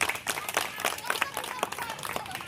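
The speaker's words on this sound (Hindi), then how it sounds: "एक बार जोरदार ताली बजा दी।" An audience claps together at a political gathering in Raipur, steady dense applause throughout at moderate distance, with voices mixed in.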